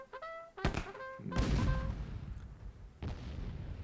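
Cannon and mortar fire in the Myth II Soulblighter video game, a few sharp booming blasts with echoing decay, mixed with brief game chimes, moderately loud.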